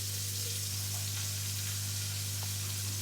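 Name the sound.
bacon and chicken sizzling in a pan for coq au vin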